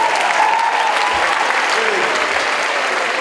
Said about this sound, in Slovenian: Pa en aplavz za vaše perfokse